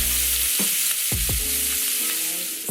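Marinated shrimp garnished with lime zest sizzles steadily in a hot pan, with a constant close frying hiss and a few brief stirring scrapes and clinks throughout.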